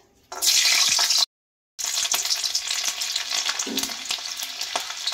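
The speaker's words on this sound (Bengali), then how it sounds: "রসুনটা ভেজে নেব।" Garlic cloves fry in mustard oil in a kadai for Bengali bharta, a loud hissing sizzle that briefly cuts out, then returns with stirring scrapes and crackles.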